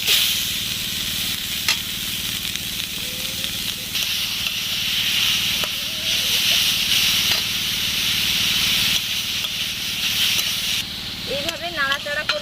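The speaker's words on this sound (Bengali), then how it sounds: "এবার আমি গ্রেট করে রাখা গাজরগুলো কড়াইয়ের মধ্যে দিয়ে দিচ্ছি" Grated carrots hit melted ghee in a kadai, producing a loud, steady hissing sizzle with scraping stirs, while a voice talks over it and briefly rises near the end.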